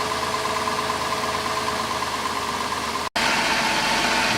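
A 2007 Dodge Grand Caravan SXT engine idles steadily up close, with an even mid-pitched hum and faint vibration that drops out for a brief instant before resuming.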